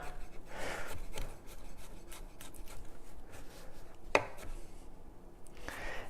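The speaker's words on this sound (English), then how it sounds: "you can rock the blade like this, back and forth over your garlic" A knife chops garlic on a cutting board with quiet, irregular taps and scraping strokes at close range, plus one sharper knock, with no talking.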